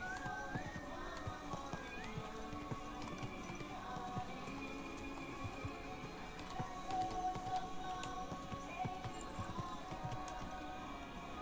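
Horse hooves clip-clop with an occasional neigh in the medieval video game Kingdom Come: Deliverance II, steady and moderately close over ambient game sound and music.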